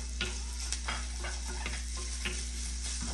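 Turkey sticks are frying with cooked onions for kids' fried rice, a steady, quiet hiss of sizzling oil with repeated light scrapes of a utensil stirring the pan, no voices.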